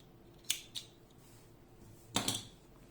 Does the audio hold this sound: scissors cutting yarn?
yes